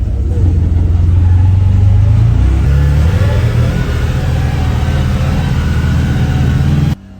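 A CF Moto off-road vehicle engine revs loudly and close in deep snow in the woods, a sustained roaring drone that rises in pitch before cutting off abruptly at the end.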